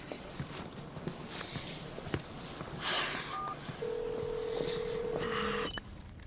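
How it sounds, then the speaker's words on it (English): A few telephone dialing tones sound faintly partway through as someone places a call, followed by a longer steady ring tone, with light shuffling and footsteps in a quiet room. "I'm just gonna make a super quick phone call"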